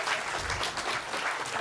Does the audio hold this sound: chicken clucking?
no